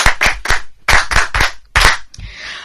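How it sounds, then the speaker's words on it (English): A small group claps in short, uneven bursts of several sharp, close hand claps each, with brief gaps between, during a French language lesson session. "Applaudissez."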